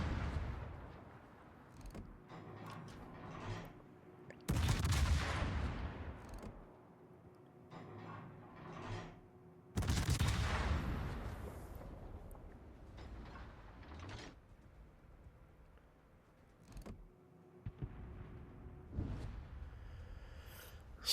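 Naval gunfire in World of Warships: heavy booming salvos from a Salem cruiser, two big blasts with long rumbling decay, plus lighter distant shots and mechanical clunks under a low ambient hum, no voices.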